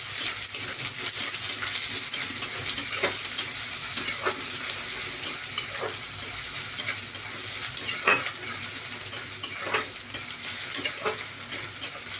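Onions sizzle steadily in a hot pan, a close, continuous frying hiss broken by periodic spatula scrapes and stirs, with no talking.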